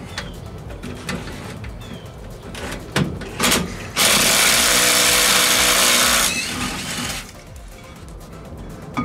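A power tool with a socket removes the brake caliper bolts on a 1956 VW Beetle. There are a few short bursts, then one loud continuous whirring run of about two seconds, with birds cooing faintly in the background.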